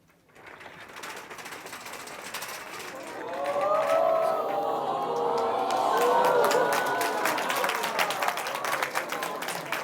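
An audience of students claps at a teacher's retirement class, applause swelling after a few seconds into sustained, dense clapping in an indoor room.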